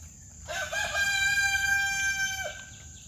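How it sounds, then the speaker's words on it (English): A rooster crows once, fairly close and loud: a long, drawn-out call that rises, holds and then cuts off over quiet rural background noise. "Randall, I hear the roosters every morning"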